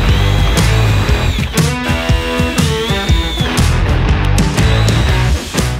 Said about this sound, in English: it was time to start drilling the new holes